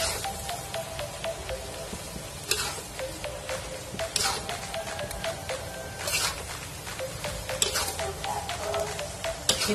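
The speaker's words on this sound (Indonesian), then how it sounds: "Kita aduk sampai semuanya tercampur rata." Mie gomak (stick noodles) being stirred and fried in a pan, Medan style, with steady sizzling and repeated scraping stir strokes, close and continuous.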